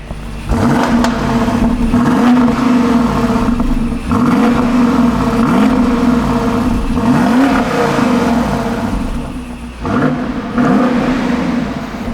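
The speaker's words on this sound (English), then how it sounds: "the sound of the exhaust V8 is okay" A 2021 BMW X6 M50i's V8 exhaust revs repeatedly while standing, loud and close, each throttle blip swelling up and falling back in a steady rhythm of rising and dropping engine pitch with no talk.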